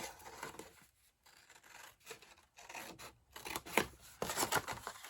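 Scissors cut through dark paper being trimmed for a 4-inch cube box, giving several close, crisp snipping and rasping strokes in uneven bursts separated by short pauses, with no talking.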